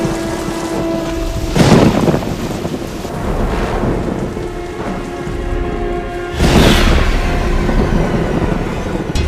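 Steady heavy rain pouring on a night in Guanajuato, Mexico, a dense continuous hiss with rolls of thunder swelling twice, loud and close throughout with no voices.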